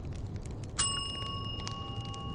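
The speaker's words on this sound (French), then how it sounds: "Il a fait sonner la cloche." A single bright bell ding rings out and lingers with a clear sustained tone, over quiet background rustling.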